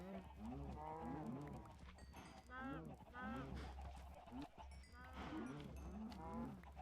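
Several cows in Minecraft moo repeatedly in overlapping, drawn-out calls, loud and close over a steady low background hum, with a few brief fowl-like clucks mixed in.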